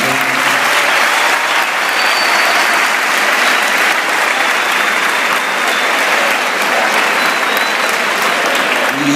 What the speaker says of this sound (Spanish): Quiero pedir un aplauso para Lorena.